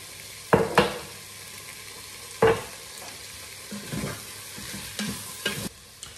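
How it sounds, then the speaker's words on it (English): Salted food sizzles in a frying pan during home cooking of a Sunday lunch, with a steady hiss broken by several sharp scraping stirs of a utensil against the pan. "So we're going to allow this to keep on sizzling."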